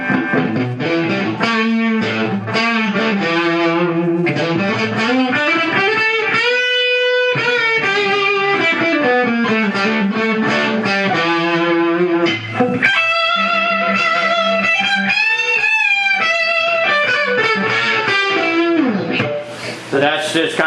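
An electric guitar plays lead lines through a Marshall MKII Lead amp cranked to heavy distortion, with sustained bends and fast runs ringing out loud and close with no talk over them.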